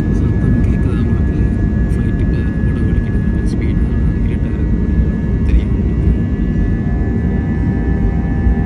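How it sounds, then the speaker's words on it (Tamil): Passenger airplane climbing after takeoff, heard from inside the cabin as a loud, steady engine roar and rumble with a faint constant whine throughout. "இப்போ பார்த்தீங்கன்னா ஃப்ளைட் நல்லா மேல் எழுப்பிட்டது."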